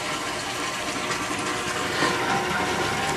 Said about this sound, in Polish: Akurat otwarłem zawór. Gdy go zamknę, napełniam pierwszą beczkę